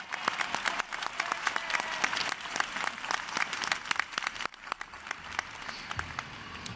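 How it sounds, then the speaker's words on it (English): An audience at a CUNY commencement ceremony bursts into applause, a lively, sustained clapping with distinct individual claps cutting through the crowd wash, briefly dipping midway then continuing. "Can you please give a big round of applause to President Ann Kirchner?"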